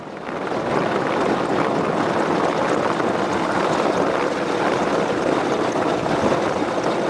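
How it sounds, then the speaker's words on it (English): A search and rescue helicopter gives off a loud, steady broadband roar that rises in the first half second and then holds constant, close and with no voices. "Search and rescue helicopter, a helicopter specifically equipped for search and rescue missions"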